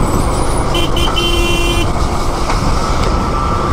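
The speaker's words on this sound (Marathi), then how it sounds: "लागलं बघा जाम आपल्याला आता हायवेनं" A traffic jam on an Indian highway on a busy May Day holiday, with a steady dense roar of cars and trucks and a few car horns tooting clearly over it.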